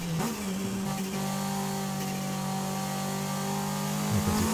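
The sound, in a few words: Toyota MR2 car engine in video game Forza Horizon 5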